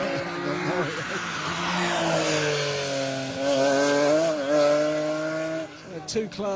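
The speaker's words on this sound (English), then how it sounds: "Two cars in close attendance, both BMWs." Two BMW rally cars pass close together on a special stage of the 2022 Rally Wervik, with loud, sustained engine drone rising and falling in pitch as they accelerate and shift, with brief tyre noise near the end.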